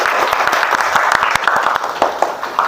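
A classroom full of students claps after a group presentation during an Indonesian teacher-training lesson, with dense, steady applause that is close and loud throughout.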